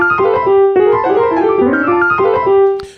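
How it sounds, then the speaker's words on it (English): A busy, unquantized piano part played on a keyboard, with dense overlapping notes and chords at loose, uneven timing, loud and close, with no talking over it. "very, very busy piano part that I just kind of slammed on the keyboard"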